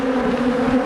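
Honey bees buzz steadily around an open hive box while a beekeeper shakes them through a grid with smoke, a dense continuous drone close by with no voices.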